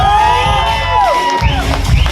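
Wedding guests cheer and whoop as a crowd, voices rising in a loud continuous swell with shouted tones over it; little distinct clapping stands out.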